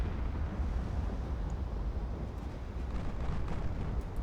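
Heavy 19-inch naval guns in Ultimate Admiral: Dreadnoughts firing on light cruisers, heard as a continuous deep rumbling roar of distant bombardment, steady and moderately quiet throughout.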